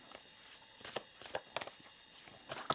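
An oracle card deck being handled and cards pulled, producing a series of quick papery riffles and flicks in uneven bursts, close and fairly soft, with no talk.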